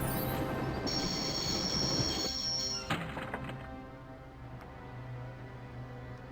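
A heavy video-game train on the Orient Express rumbles with rail squeal and metallic clatter, a loud continuous roar that thins out after a sharp clank partway through.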